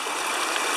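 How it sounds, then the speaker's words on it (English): Water flows at the bottom of a waterfall in a rocky stream, a dense continuous hiss of rushing water close by, steady and broadband with no voices. "now I'm down at the bottom of the waterfall"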